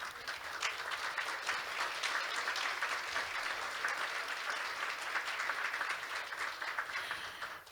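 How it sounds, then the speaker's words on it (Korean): A forum audience at the Pyeongtaek international peace and security forum applauds steadily for several seconds, a dense, even wash of many hands clapping at a moderate distance without voices. "박수 부탁드리겠습니다"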